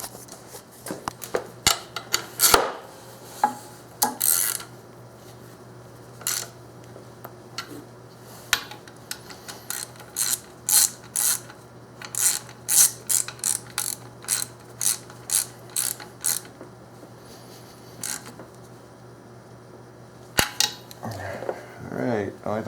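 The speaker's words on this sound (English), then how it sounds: "Alright, we're going to torque those up." Clicking ratchet of a torque wrench tightening valve cover bolts on a GM 3800 Series II V6, heard as bursts of sharp mechanical clicks with pauses between, close and fairly clear over a low steady hum.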